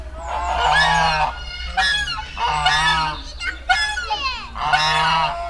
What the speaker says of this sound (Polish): tutaj gęsi chodzą na wolności